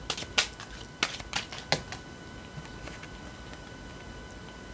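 A deck of tarot cards is handled and shuffled, producing a few sharp, scattered taps and flicks that cluster early and then thin out into quieter clicks.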